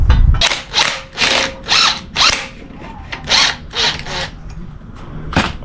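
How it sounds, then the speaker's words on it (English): An impact or power tool works a bolt loose on a 1995 Toyota Tacoma 2.7L four-cylinder engine during a rebuild, with several loud, separate bursts of ratcheting whir spaced about half a second apart, close by with no talk. "Now you can just try to remove this bolt."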